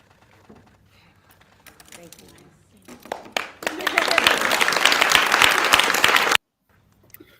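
A gathering of Democrats clapping, heard in a played recording: scattered claps and voices at first, then a dense burst of loud, sustained applause that cuts off abruptly into near silence.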